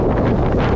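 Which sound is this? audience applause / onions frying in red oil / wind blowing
wind blowing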